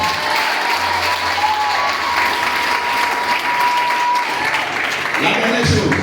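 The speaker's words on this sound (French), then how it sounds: "Est-ce qu'on peut acclamer ça?" A church congregation applauds and cheers in a dense, steady roar of clapping that fills the room throughout, with voices and a brief tone mixed into the crowd noise.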